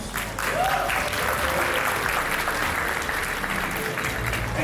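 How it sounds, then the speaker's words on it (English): A large audience in a hall of over 2,000 people at a villa community launch applauds the head of sales, a continuous, loud wash of clapping with a low background hum. "please join me in a round of applause for our head of sales"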